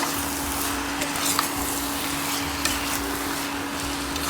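Two pounds of shrimp coated in ginger garlic paste, tamarind, turmeric and chili powders are stirred through rice in a pan, giving a continuous scraping, sizzling churn with small clinks, close and alone without talk.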